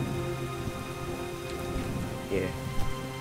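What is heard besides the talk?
rain falling in the video game Starbound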